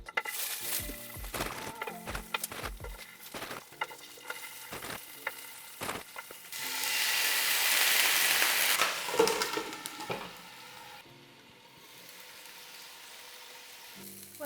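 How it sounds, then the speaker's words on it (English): Dumplings pan-fry in oil with a steady sizzle. Scattered taps and knocks of the pan come first, then a loud hissing surge that eases back into a softer crackle. "let's cook some dumplings and try it"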